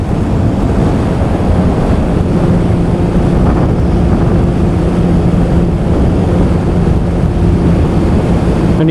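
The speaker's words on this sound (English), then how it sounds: "Just have the engine pulling." A Yamaha RD350 two-stroke motorcycle pulls hard on a ride, its engine drone buried under heavy, constant wind rush at the microphone.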